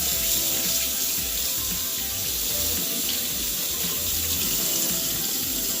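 Cassava is washed under a running kitchen tap, with a steady close gush of water splashing into a sink that runs unbroken from start to finish.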